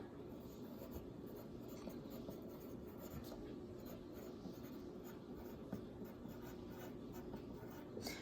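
Pen writing words on paper for a music theory practice test, a faint continuous scratchy scribble close by, quiet and steady with no talk over it.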